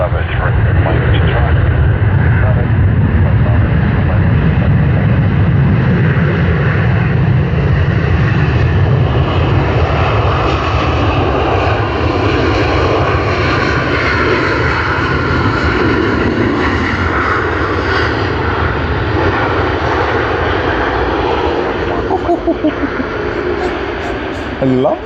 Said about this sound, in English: another A380 arrival of Singapore Airlines coming in from Singapore Changi